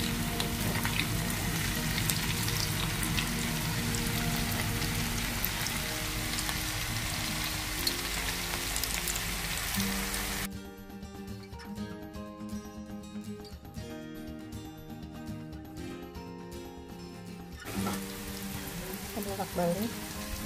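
Snack rolls fry in hot oil with a loud, dense, continuous crackling sizzle that fills the first half. It drops away while music plays, then returns more softly near the end.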